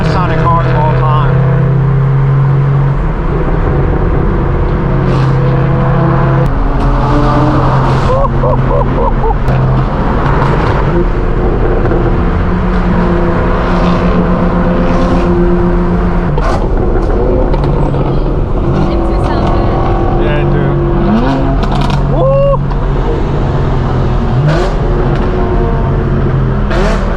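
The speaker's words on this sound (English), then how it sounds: "the E92 is just one of the best sounding cars of all time." BMW E92 engine and exhaust accelerating, loud rising and falling revs with gear changes during a night drive, heard close from inside a car, with voices talking over it.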